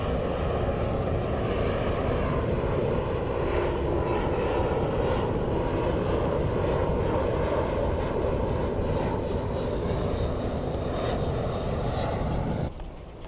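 An airplane engine roars loudly and continuously near Faro airport in Portugal, a dense steady drone that cuts off abruptly near the end.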